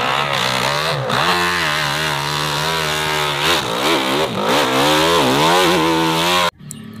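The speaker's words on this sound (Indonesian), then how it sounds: "Wow, ini motor cross atau motor trail warna merah." A red toy motocross motorcycle gives off a loud, buzzing, high-revving engine whine that rises and falls repeatedly for several seconds, then cuts off abruptly near the end.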